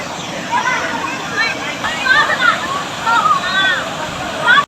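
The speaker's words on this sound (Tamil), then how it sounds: "குற்றாலம் அருவிகளில் வெள்ளப்பெருக்கு காரணமாக குளிக்க தடை விதிக்கப்பட்டுள்ளது" Courtallam waterfalls in flood give off a steady, roaring rush of falling water that fills the whole stretch, with a crowd's chatter and shouts mixed in throughout.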